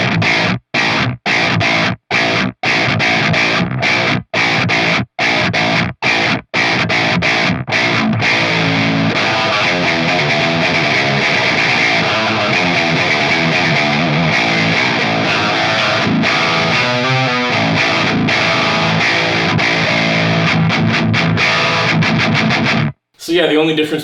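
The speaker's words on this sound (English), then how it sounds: "the only difference between the main rhythm tone and this one, again, is just activating that coil split using the tone knob" Schecter Blackjack 2020 7-string electric guitar with the bridge pickup coil-split for a bright, spanky rhythm tone, distorted chugging chords played loud and continuously with short choppy stops early on, alone.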